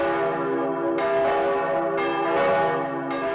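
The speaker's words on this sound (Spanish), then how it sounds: "repiquen las campanas" Church bells ringing loudly and continuously, with rich overlapping tones and periodic new strikes roughly every second, in a depiction of the Siege of Malta.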